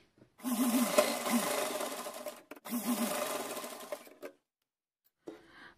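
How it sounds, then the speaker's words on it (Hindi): A sewing machine runs in two steady bursts as it stitches overlapped pieces of cotton fabric for a small dress. Its whirring motor is close and fairly loud, with brief pauses between the bursts and a short final run. "दोनों पीस को हम ओवरलैप करेंगे इस तरीके से रख के और इन दोनों को मिला करके सिल देंगे"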